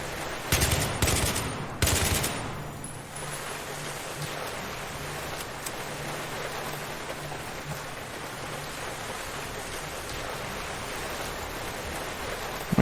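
A burst of automatic gunfire in Battlefield 3 opens, then a steady rain-like wash of noise with a faint low hum carries on, with no speech over it.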